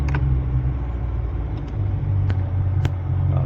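An old engine idles low and steadily with a deep, even rumble close to the microphone, a few faint clicks and knocks scattered over the hum.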